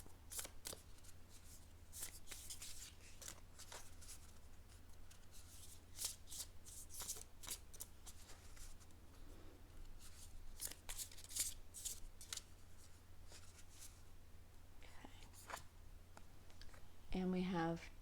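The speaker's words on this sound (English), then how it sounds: "I do like to shuffle them on camera and connect with your energy a little bit" Oracle cards shuffled by hand in a quiet room, a steady run of soft riffling bursts and papery flicks that carry on throughout, with a brief fuller rustle near the end.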